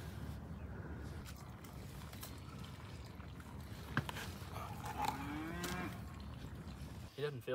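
Dairy cows and calves on a Texas ranch hit by wildfire, with a few moos and lowing calls in the middle and end over steady outdoor background noise.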